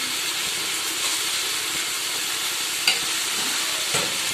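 Tomatoes with a pinch of salt sautéing in a pan for chicken biryani, a steady close sizzle and hiss with a couple of brief scraping stirs, no talk.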